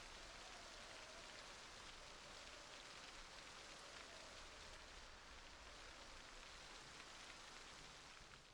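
Steady rain falls in Project Zomboid, a dense, even hiss of drops on surfaces that holds at a constant level from start to finish, with no voices over it.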